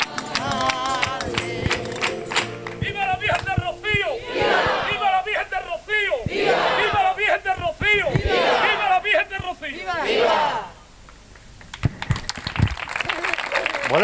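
Crowd at a Virgin procession in Bajo de Guía applauding and cheering, bursts of shouting and clapping in waves alongside chanted voices, then a brief lull before scattered clapping returns.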